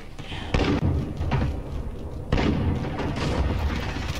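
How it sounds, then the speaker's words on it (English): A loud, heavy launch of an allied cruise missile in a shooter video game, with two booming thuds rolling into a sustained roar that fills the whole span without talk. "Allied cruise missile away."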